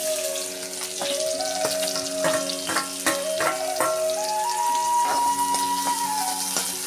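Continuous oily sizzle of onions frying in a pan with cumin seeds, with scattered clicks and scrapes and a faint tonal hum in the background.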